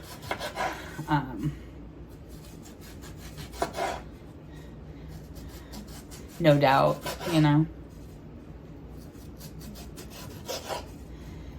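Knife chopping nectarines on a cutting board for a curry chicken salad, with a few short scraping, rasping cuts spread through the clip, mostly under and between a person talking.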